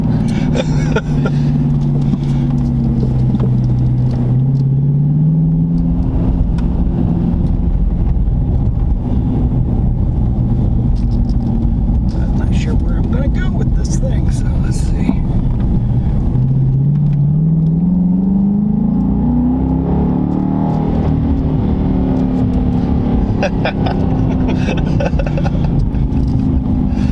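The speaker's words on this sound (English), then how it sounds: "Oh, that V8 just sounds nice." A 2017 Dodge Charger Daytona R/T with a naturally aspirated 5.7-litre V8 engine revs loudly and close, a deep steady rumble rising twice in pitch as the throttle is blipped and then falling back, with brief speech mixed in.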